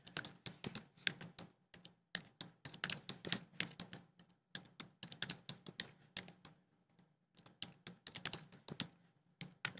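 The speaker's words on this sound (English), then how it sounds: "I'm just typing it out by hand to go slow" Hands type slowly on a computer keyboard, producing bursts of crisp, close key clicks in uneven runs with short pauses between them, with no talk.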